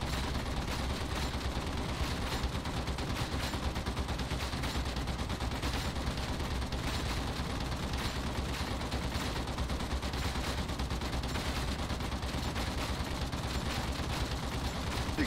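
An Ogryn's stubber fires nonstop in Warhammer 40K: Darktide, set up with Charmed Reload and Blaze Away against a Plague Ogryn. The steady, rapid rattle stays at an even level throughout, with no voices over it.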